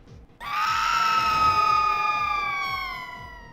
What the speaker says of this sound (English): That scream, though.